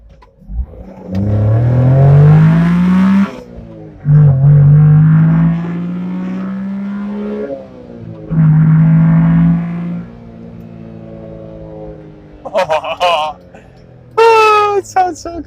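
A 1993 Honda Beat Type C small engine revs hard while driving on country roads, rising through several long pulls with gear changes between, loud and close, ending in a few brief spikes.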